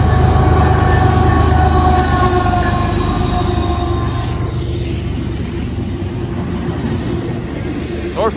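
A Norfolk Southern freight train rolls past at a rail crossing on Bayview Road in Blasdell, New York, a loud continuous rumble and clatter of railcars with high squealing tones, steady throughout with some talk mixed in.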